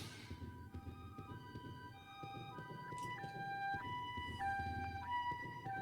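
An ambulance siren in the video game Resident Evil: Code Veronica wails in faint, repeating two-tone cycles over a low rumbling background, with no talk.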